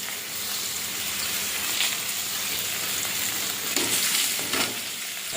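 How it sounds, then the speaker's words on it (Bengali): Onion sizzles steadily in hot oil in a wok, a continuous close frying hiss broken by a few stirring scrapes, with no voices. "পেঁয়াজটা ভাজা ভাজা করে নিচ্ছি"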